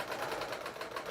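A serger sewing machine chains off at speed, a dense, rapid mechanical whirring and ticking that stays steady and close for about a second.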